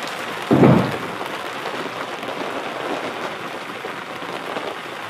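Steady rain drums on the tarpaulin roof of a yurt, a dense close patter that holds evenly throughout, with one brief louder thud near the start.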